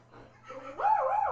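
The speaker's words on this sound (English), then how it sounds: "Dogs keep sneaking in" A dog makes brief yipping, whimpering barks in the background of a podcast recording, rising in pitch and growing louder toward the end, with no talk over it.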